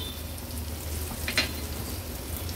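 Chutney sautéing in oil in a pan with turmeric and salt gives off a steady, even sizzle that hums along at moderate volume, with one brief brighter crackle midway and no voices.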